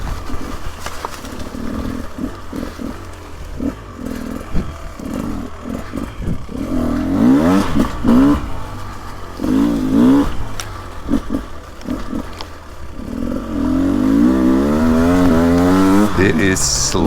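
A 2024 Beta 300 Race Edition two-stroke motorcycle is ridden over slick ground in third and second gear. The engine revs rise and fall in repeated bursts, with clattering and some talk over it.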